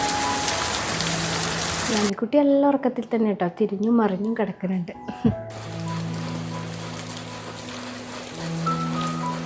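Steady rain pours in a continuous hiss, broken midway by a person speaking softly before the downpour resumes.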